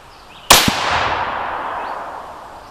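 A single loud, sharp crack from a .22 Creedmoor rifle fired during a pressure test, followed by a long, fading echo rolling across open ground.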